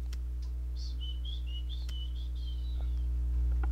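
A person whistles an imitation of a small bird's chirping call during a gaming stream, a short run of thin rising and falling tweets over steady low hum.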